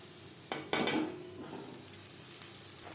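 A ginger, green chilli and tomato paste sizzles in hot oil as it is fried for a vegetarian potato and pointed gourd curry, with a steady soft hiss broken by a few sharp clinks of a spoon against the pan.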